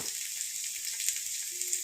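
Potatoes frying in oil in a pan, a soft, steady high sizzle that carries on evenly and quietly throughout, with no talking.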